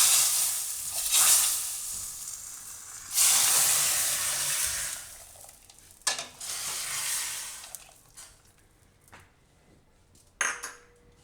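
A tempering of cumin, bay leaf, red chili, curry leaves and asafoetida poured over amla rasam, producing loud bursts of sizzling and hissing that fade between pours, with stirring and clinks of utensils against the pot, and no talking.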